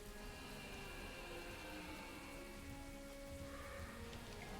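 Steady rain in the horror adventure game Gibbous: A Cthulhu Adventure, a continuous dense patter with faint distant rumbles, holding even and loud throughout with no talk.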